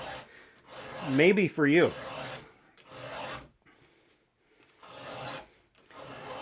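A furred 2-in-1 chainsaw file with 7/32 files rasps across a saw chain in a run of close, gritty strokes, with a brief voice mid-clip and quieter scraping afterward.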